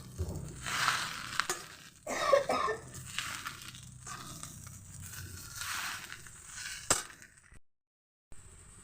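Water spinach greens frying in a pan are stirred in repeated rustling, crunchy sweeps over a steady sizzle, with a sharp clatter near the end before a brief silence.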